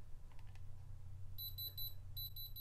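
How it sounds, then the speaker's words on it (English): A diamond tester pressed to a stone in a thrifted jewelry piece emits two short bursts of rapid electronic beeps, crisp and close against quiet room hum. "if it's a diamond, it will beep and go and light up red"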